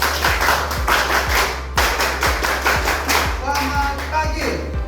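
A group clapping the Indonesian scout rhythm, tepuk pramuka, in a classroom, with sharp, loud, evenly patterned claps in quick sets and a voice speaking over the end.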